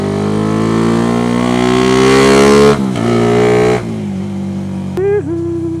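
A car engine drones and climbs in pitch, then drops in steps as gears change, followed by a sharp blip of revs for a rev-matched downshift that settles to a lower hum.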